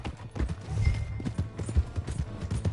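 Horse hooves clip-clop in a steady uneven rhythm in a PS4 video game, fairly close and moderately loud over a busy game background.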